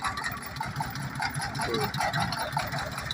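A small tractor in an orchard runs at a steady, moderate chug for the whole stretch, with someone talking over it.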